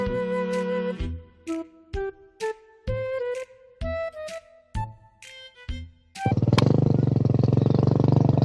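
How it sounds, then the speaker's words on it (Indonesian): A motorcycle engine in a village setting bursts into a loud, steady idle after a run of short, stepped electronic tones. "Itu deh motornya."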